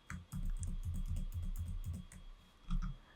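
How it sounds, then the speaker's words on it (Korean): Keys on a computer keyboard are pressed repeatedly as Ctrl+D is tapped again and again, a run of soft, even clicks close up at low volume, ending with one slightly firmer press. "선 오브젝트를 복사한 직후 컨트롤 D를 7번 눌러서 복사 작업을 반복합니다"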